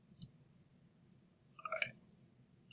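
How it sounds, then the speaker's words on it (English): A few faint clicks from a computer mouse during photo editing work, a sharp single click near the start, a quick cluster of soft clicks later, and another click at the end, all quiet against a low background hum. "Sure, I click on that."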